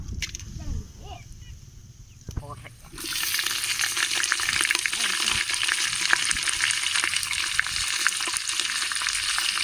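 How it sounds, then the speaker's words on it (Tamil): Cloves dropped into hot sesame oil burst into a loud, steady sizzle after a few seconds of quieter handling noise, the frying hiss holding close and continuous to the end. "நல்ல எண்ணெய். பச்சை கிராம்பு போடுறேன்."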